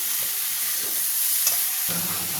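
Tempering sizzling in a hot pan with a pinch of salt added, a constant bright frying hiss with soft stirring scrapes, close and steady.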